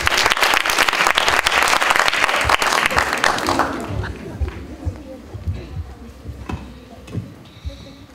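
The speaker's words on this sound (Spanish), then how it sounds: "Un fuerte aplauso para él." Loud applause from a public audience at a children's civic hearing with the mayor, dense clapping that fades after about four seconds into scattered claps and room noise.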